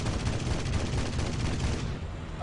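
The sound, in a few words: aircraft cannon firing in video game War Thunder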